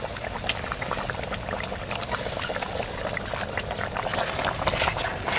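Fish curry being poured out of a cooking pot, a continuous splashing, bubbling liquid rush that stays loud and steady throughout.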